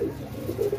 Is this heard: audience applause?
no